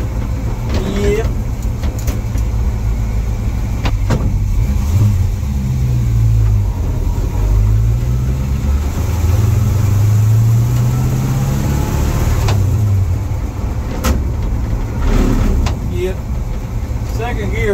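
A car with a 4-speed Muncie transmission drives along, its mid-pitched engine droning and rising and falling through gear changes, with a worn second gear, steady and close throughout.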